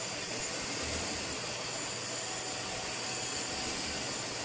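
A Chevrolet Tahoe engine runs steadily, a loud, dense broadband roar with a low rumble underneath, continuous and unchanging throughout with no speech over it.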